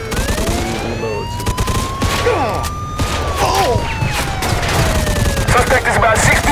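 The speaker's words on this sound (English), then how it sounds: "Everybody else is shooting." Automatic gunfire in a Mafia 2 shootout, with dense overlapping bursts and rattling shots over rising sirens, loud and continuous throughout.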